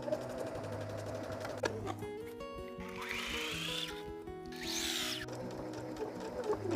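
A home sewing machine stitches quilt binding in short bursts, its rapid needle whir starting and stopping repeatedly with quiet handling gaps between runs, close and fairly faint.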